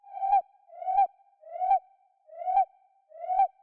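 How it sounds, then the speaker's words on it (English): A synth patch in Ableton Operator with a pitch envelope sounds five short tonal notes, each sliding down in pitch, repeating at a steady rhythm of about one every 0.7 seconds. The notes are clean, close and alone, with no talking. "Since we added the pitch envelope at the start of Operator, it's kind of going back down in pitch"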